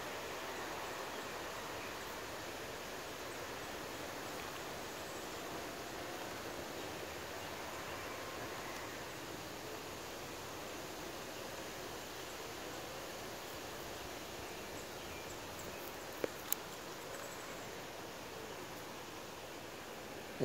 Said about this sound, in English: That's the waterfall sound you hear.